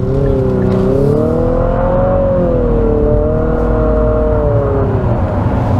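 A 2022 Infiniti QX55 SUV accelerating hard, its engine revving in a smooth rising and falling drone, loud and close from inside the cabin, steady with no talking over it.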